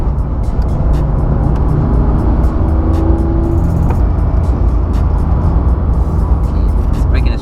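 A Porsche 911 GT3 on track with exhaust flaps open gives a loud, steady in-car engine drone, while someone talks over it.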